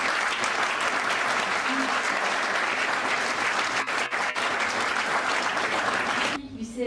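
An audience at a French film music award ceremony gives sustained applause, dense and even for about six seconds, then it cuts off abruptly near the end.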